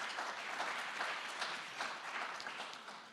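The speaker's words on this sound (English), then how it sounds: "let's give them a warm applause." Warm applause for panelists at a European sustainability congress, a soft, steady wash of many hands clapping, fairly distant and even throughout, fading slightly at the close.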